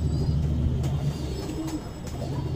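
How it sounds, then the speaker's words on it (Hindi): A Madrasi pigeon coos in low, throaty, repeated murmurs close by against a quiet background, with no one speaking. "हरी कबूतरी है,"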